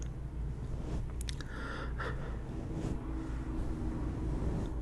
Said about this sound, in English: That might be a school bus, honestly.